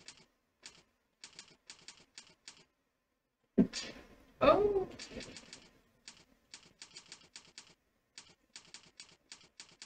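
Bursts of keystrokes on a computer keyboard, quick clicky clusters with short pauses, close and fairly quiet, interrupted midway by a louder thump and brief murmur.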